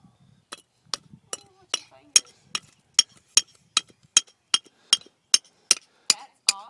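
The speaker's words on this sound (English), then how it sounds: "show Mom how you use your hammer." A child strikes bricks with a hammer in a steady series of about fifteen sharp, evenly spaced taps, close and clear, with faint voices in the background.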